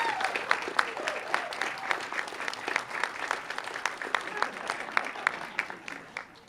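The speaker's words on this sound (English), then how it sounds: "I just want a round of applause for our wonderful director, Dr. Galimo" Audience applause for a municipal band's director at an outdoor concert: steady clapping from a crowd of moderate size, sustained for several seconds, heard somewhat far and faint.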